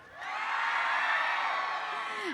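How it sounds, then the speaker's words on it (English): A campus audience at an event cheers and whoops in one loud, sustained swell of crowd noise that holds steady for a couple of seconds before cutting off. "Huge round of applause to Mallareddy Garu."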